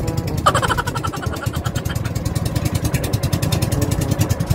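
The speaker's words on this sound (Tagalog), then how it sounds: "Ayan na po yung napaka-pamilyar na tunog ng bangka." A boat engine runs nearby on water beside mangroves, with a steady rapid chugging and a rattling mechanical hum, loud and continuous.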